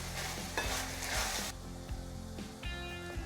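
Broad beans stir-fried in spice masala with salt being mixed in, a spatula scraping and turning them in the pan in repeated strokes over a low, steady sizzle, close and fairly loud, with no talk.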